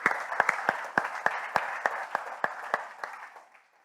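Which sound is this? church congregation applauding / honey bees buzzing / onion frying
church congregation applauding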